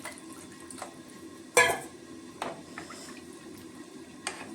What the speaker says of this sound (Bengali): আর একটু জল দিয়ে দিচ্ছি